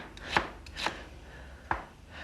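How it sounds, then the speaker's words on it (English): A knife chops onions on a cutting board in a kitchen with three distinct, quiet strikes, unevenly spaced, each a short dull thud. "चलिए मैं प्याज काट देता हूँ।"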